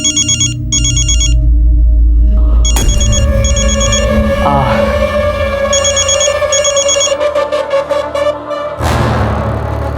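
A telephone rings in repeated electronic bursts, loud and close, over steady background music and noise.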